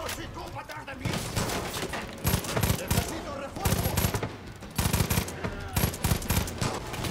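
Repeated bursts of rapid automatic gunfire in quick volleys from the video game Far Cry 5, with background game noise and a voice heard faintly underneath.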